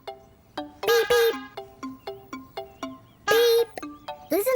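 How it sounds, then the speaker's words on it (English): A squeaky toy horn in a children's cartoon honks a string of short, bright beeps in an uneven rhythm, with a few longer, louder honks mixed in, all close and clear. "A horn makes a squeaky sound. It goes beep, beep, beep, beep,"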